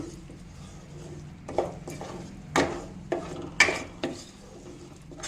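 Melting jaggery is stirred in a pan for puffed-rice ladoos: faint, intermittent spoon scrapes and taps against the pan, about half a dozen sharp strokes over a low background, with no talk.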